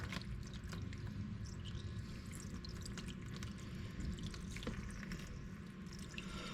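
A steady stream of water draining from an engine's oil drain splashes and patters into a container, constant and close, with a few scattered drips and no voices.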